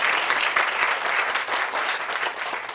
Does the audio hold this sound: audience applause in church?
yes